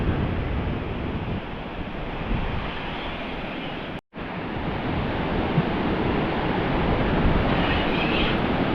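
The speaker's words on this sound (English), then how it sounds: "The wind's just picked up from the right" Wind gusts across shallow water at a fishing spot with surf washing in, a steady loud rush that fills the whole stretch and drops out for a split second midway.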